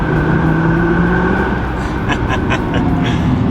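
A Nissan GT-R accelerates on the road at quarter throttle, a loud close engine drone from inside the car with a rising rasp and a few sharp pulses near the end.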